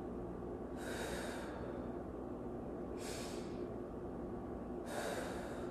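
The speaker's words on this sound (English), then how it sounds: "Breathe." Three slow, deep breaths drawn in and out through the nose at an even pace during a seated forward-fold yoga stretch, close and fairly soft over a steady low room hum.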